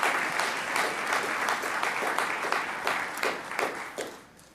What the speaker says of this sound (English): A big round of applause to you.